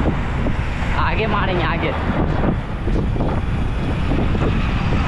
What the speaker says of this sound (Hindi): अभी हवा का बहुत ज़्यादा ही तेज़ यहाँ पे हवा चल रहा है, तो भाई आवाज़ को थोड़ा सा मैनेज कर लेना